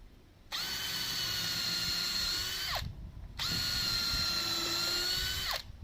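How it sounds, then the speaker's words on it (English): A power drill drives 200mm batten screws into a cabin kit: two long, loud steady whirring runs of about two seconds each, each winding down at the end, separated by a short pause. "we're going to put another 200mm batten screw, 100mm away from the walls"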